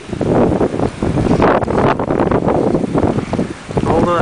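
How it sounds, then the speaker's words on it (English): Strong wind gusting up to 42 knots in Kodiak, Alaska roars and buffets the microphone in heavy gusts, a dense rushing noise that swells and dips throughout. "Blowing wind. Quite bad weather."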